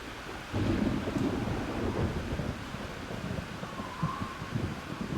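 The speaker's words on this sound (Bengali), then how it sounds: "গুড়ি গুড়ি বৃষ্টি শুরু হয়েছে" Rain and rolling thunder as a sound effect in an animated story: a low thunder rumble breaks in early and keeps growling under a steady wash of falling rain, with a faint high tone drifting in near the end.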